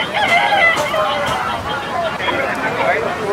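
A rooster crows amid the bustle of an outdoor rooster market, its call rising over a steady babble of voices and crowd noise through a few seconds.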